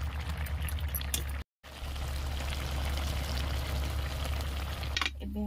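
Water being poured into a prawn curry in a village kitchen, a steady loud pour with a brief gap partway through, then a faint clatter at the end.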